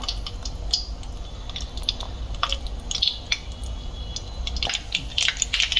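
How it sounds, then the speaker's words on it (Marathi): Sharp scattered pops and crackles of mustard seeds spluttering in hot oil, irregular and close, over a low background rumble. "मोहरी तडतडायला लागली, आता हिंग घालायचं आणि जिरं घालायचं।"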